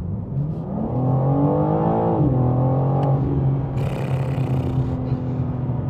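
A 2022 BMW M4 Competition xDrive pulls away, its engine note rising steadily and holding a strong droning tone, with a brief upshift dip midway and a faint hiss near the end; no one talks.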